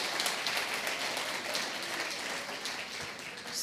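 A church congregation claps its hands in steady, continuous applause, a dense wash of many hands heard from within the room, moderately faint, with no clear talking over it.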